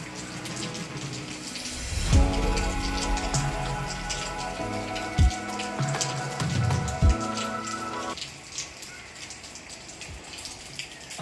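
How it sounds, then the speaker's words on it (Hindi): Heavy rain falls at a tea garden in Coonoor, a steady wash of water with dripping, splashing detail, broken by a few brief louder knocks and a tonal hum through the middle. "बहुत देर से बादल छाए हुए थे लेकिन अब फाइनली बारिश ही आ गई है,"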